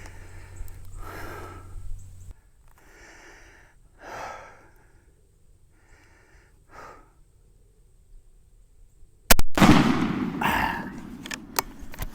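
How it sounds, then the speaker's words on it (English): A turkey shotgun fires once at a pattern target outdoors, a single loud sharp blast near the end, preceded by quiet breathing and small noises. "I'm gonna shoot it again one more time and see"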